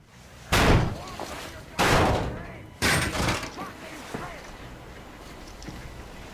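Heavy door being forced open in the video game Metro Exodus: three loud, close slamming impacts in quick succession, each with a short rumbling tail, followed by fainter knocks under a low background.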